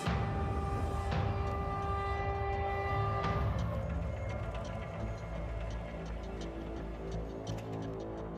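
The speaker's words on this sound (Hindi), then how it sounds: "रेलवे ट्रैक पर धड़धड़ाती हुई ट्रेन तूफानी रफ्तार से दौड़ती चली आ रही है।" A train rushes past with loud, steady rumbling and clatter, its horn blaring in two long blasts early on before the noise continues unbroken.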